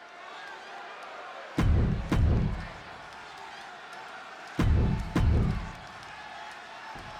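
Arena crowd at a WWE 2K26 wrestling match set in Chicago, a steady roar of cheering with two pairs of loud slams or thuds bursting through near the middle and later.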